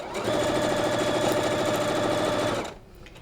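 Sewing machine stitching a quilt in reverse for a back stitch, a steady fast whirring run held for about two and a half seconds before stopping abruptly, close and loud.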